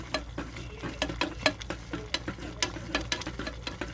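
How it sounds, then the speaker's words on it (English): A spoon stirs salmon, couscous and squash medley in a pan, giving quick, rhythmic scraping taps over a low, steady sizzle, close up and quiet. "Alright, we're going to stir that up good."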